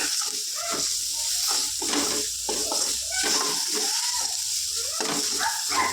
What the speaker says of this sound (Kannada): ಇದೆಲ್ಲನೂ ಸ್ವಲ್ಪ ಎಣ್ಣೆ ಬಿಡೋವರೆಗೂ ಫ್ರೈ ಮಾಡ್ಕೋಬೇಕು